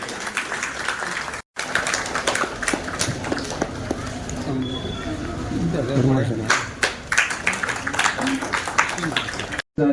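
Applause fills a community get-together and student felicitation of a North Gujarat family association at Ramwadi: dense, steady crowd clapping runs nearly the whole time beneath someone speaking over a microphone.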